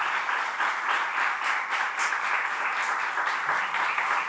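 Sustained audience applause at a talk in São Paulo, many hands clapping in a thick even roar that holds steady for several seconds, with faint voices mixed in.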